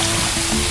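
A bucket of water being thrown, heard as a short, loud, broadband rush and splash of water that fills the whole brief moment with no voices.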